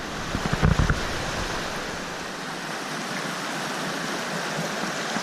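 Steady rushing water of a river through a narrow canyon at The Subway in Zion National Park fills the scene, a continuous broadband roar, close and even, with a brief thump near the start.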